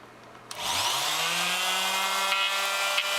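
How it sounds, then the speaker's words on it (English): A Chicago Electric oscillating multi-tool sands the corner of a kitchen cabinet. After a brief quiet start the motor kicks on and holds a steady, loud buzzing whine with a rasping grind against the wood. "I'm going to sand a corner of my kitchen cabinets that I'm going to be refinishing"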